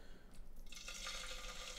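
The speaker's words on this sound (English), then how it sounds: "I'm just going to carefully drop them into our oil." Potato chips lowered one by one into hot frying oil held around 130 degrees, giving a steady broadband sizzle and bubbling that swells after a quiet start and continues loud and close to the end.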